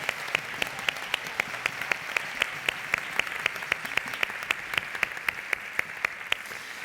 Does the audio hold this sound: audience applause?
yes